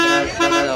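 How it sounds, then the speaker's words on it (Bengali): A motorbike horn sounds during a bus ride from Pondicherry to Villupuram, two steady buzzing tones with a brief dip between, loud and close over traffic rumble. "বাইকওয়ালা দেখো হর্ন মেরে একাজকে"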